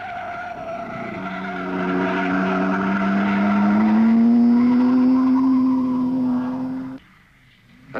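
A race car at the 1953 Mille Miglia road race passes close by, its engine note rising in a long loud whine that climbs and sustains before cutting off abruptly, with no talk.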